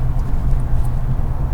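A 2019 BMW 3 Series diesel accelerating hard, its engine a deep, continuous drone and rumble heard from inside the car as the torque builds, steady and fairly loud throughout.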